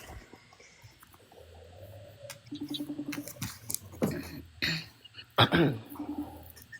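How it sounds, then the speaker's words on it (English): A few quiet throat-clearing sounds and short coughs close by, scattered between soft noises and murmured speech. "I'm clearing my throat like I'm talking."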